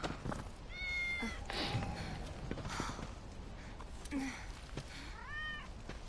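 A cat meows several times in the video game Final Fantasy VII Remake, short rising calls spread across the stretch over steady game background noise and music.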